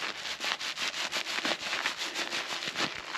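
A microfiber applicator with a plastic-wrapped sponge inside, from GlassParency, squeezed repeatedly up close, giving a steady run of rapid crinkly, rustling squeezes with no talking.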